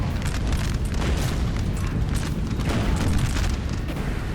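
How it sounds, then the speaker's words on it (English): Volley of 12-pounder and 6-pounder cannons firing scattershot in the Napoleon Total War battle game: a dense, continuous rumble of overlapping booms that stays loud and steady throughout, with no talk. "We've got six 12-pounders and 1 6-pounder. I think they're all firing scattershot."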